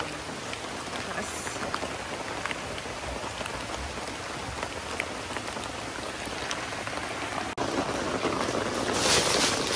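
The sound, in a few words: heavy rain on a vehicle roof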